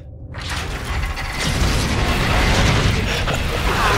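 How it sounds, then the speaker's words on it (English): A heavy mechanical door grinds open in Call of Duty: Infinite Warfare, with a loud sustained rumble of machinery and creaking gears that swells after a brief quiet start and holds steady. "Let's get this door open, Reyes"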